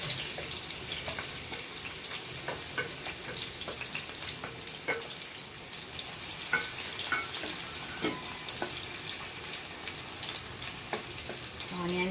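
Onions dropped into hot oil for a veg dum aloo biryani, giving a loud, continuous close sizzle with crackling bursts and scraping stirs throughout, steady and dense.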